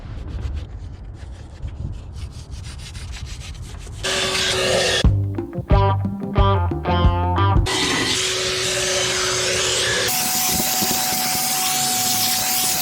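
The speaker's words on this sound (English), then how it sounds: "Kind of a waste of mass airflow cleaner because it's a little expensive, but I'm just gonna come in here and wipe down all the gunk off the gasket surface." Mass airflow cleaner is sprayed and the gunk is wiped off a Chevrolet Tahoe engine's gasket surface, with harsh hissing spray bursts and rough scrubbing and rubbing strokes, close and loud, without speech.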